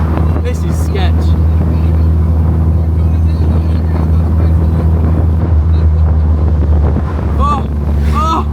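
A custom fabricated exhaust on a Mini car drones loudly while driving, buried under heavy wind buffeting the microphone, with brief voices cutting in near the end.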